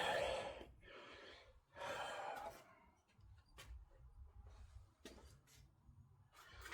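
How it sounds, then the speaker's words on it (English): A man breathing heavily up close, with loud, rough inhales and exhales in uneven bursts and sharp little noises between them, no words spoken. "Sorry if I'm breathing heavy."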